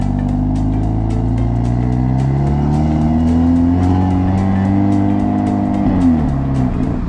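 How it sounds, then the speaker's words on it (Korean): A Hyundai Avante N's exhaust drones loudly and steadily while driving in the city, the engine note rising and falling slightly, with faint ticking and rattles over the rumble. "다음으로는 도심에서의 배기음 괜찮은가? 시끄럽진 않은가? 시끄럽습니다."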